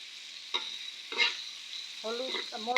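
Chopped garlic, green chili and salt fry in a pan with a steady, close sizzle, punctuated by sharp stirring scrapes, and a voice speaks briefly near the end.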